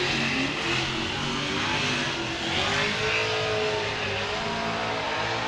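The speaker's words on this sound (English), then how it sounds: "As Daijiro, right on the back bumper of that Chevrolet Camaro." Chevrolet Camaro drift car engine at Formula Drift Atlanta, revving hard and steady with rising and falling pitch sweeps, loud and continuous with no talk.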